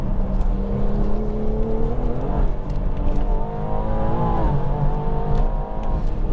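A Stage 3 Pure800 tuned BMW M240i accelerates hard, its engine note climbing steadily in pitch through the gears with a loud, continuous droning roar and no voices.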